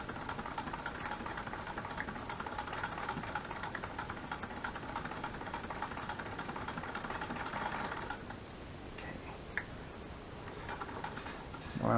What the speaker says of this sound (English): I love the sound of this old sewing machine.